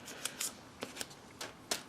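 Scissors cut a small piece from a large sheet of sandpaper for painting a 1/48 scale model, giving a series of short, crisp snips spaced irregularly and heard up close in a quiet room.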